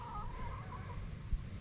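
Chickens clucking outdoors near a garden coop, with a big rooster close by; soft scattered clucks at low level over outdoor ambience, one brief louder bump near the end.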